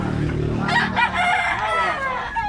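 A white huckle stag gamefowl crows close by, its loud, drawn-out call rising and wavering over a couple of seconds, with faint clucking and market chatter in the background.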